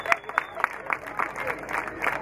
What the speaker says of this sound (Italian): va fatto un applauso perché hanno vinto questa edizione